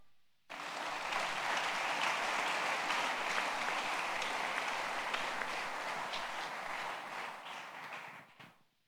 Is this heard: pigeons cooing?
no